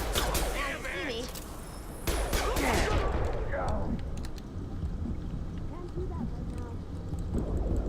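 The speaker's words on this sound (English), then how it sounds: "that gunfire is pretty loud" Gunfire in the Mass Effect 2 video game: dense volleys of shots and impacts fill the scene continuously, loud and close, with voices speaking over the combat.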